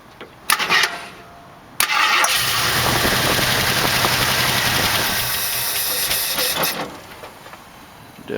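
A 1968 AMC AMX with a 401 V8 cranks with a few brief starter bursts, then catches and runs loudly and roughly for about five seconds before stalling and dying out; no talking over it.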